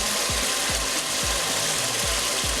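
Oil sizzles and hisses steadily in a pot while efo riro, a Yoruba vegetable soup, is fried, with a few soft low thumps recurring under the constant frying noise.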